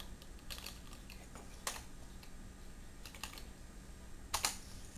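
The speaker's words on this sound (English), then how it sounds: "And then you type in the little 3-letter symbol right on the top" Sparse, faint clicks of someone typing a short three-letter code on a computer keyboard, a few quick keystrokes in small bursts separated by pauses, over a low steady background hum.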